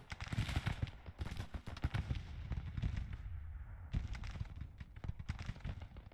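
Troops in the strategy game Grand Tactician fire their guns as a rapid, crackling volley of many overlapping shots, heard in dense bursts with a brief lull in the middle before the firing picks up again.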